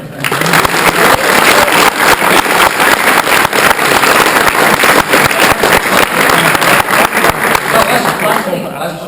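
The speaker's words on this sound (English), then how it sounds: "please, a big round of applause for Magic and for Dying Light" Applause from the audience at the Dying Light developer session at EGX 2014, loud dense clapping sustained for several seconds, close and steady before tapering slightly at the end.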